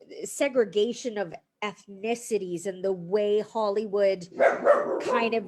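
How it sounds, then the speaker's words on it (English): A dog barks several times in the background while someone speaks steadily in an indoor interview, the barks overlapping his voice and a burst of louder noise near the end. "sorry, that's my dog"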